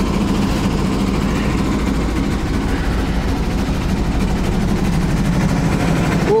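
A worn-out Chevrolet Blazer with a 4.3 engine idles with a steady, loud, close rattle and a low mechanical drone that stays even throughout.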